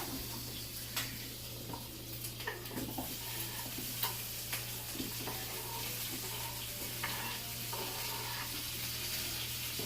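Butter sizzling in a hot frying pan while a burrito is made: a steady close hiss and crackle with occasional light clatter of cookware, no voices.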